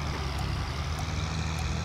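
A tractor engine is revved harder on bumpy ground during a test drive, giving a short burst of steady, loud, low rumbling close by, with no voices.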